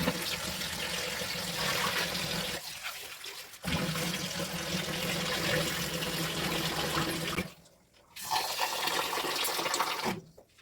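Home-grown, chemical-free rice being washed in water in a kitchen: a steady rush of running water and sloshing with two short pauses, fairly close and alone with no talking.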